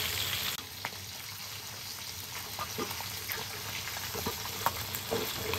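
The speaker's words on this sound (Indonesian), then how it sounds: "Mula-mula kita goreng dahulu bekasam ikan sultan ataupun ikan jelawat." Fermented fish, bekasam ikan sultan, fries in a pan with oil, giving a steady close crackling sizzle speckled with sharp pops and spits, and one brief clatter near the start.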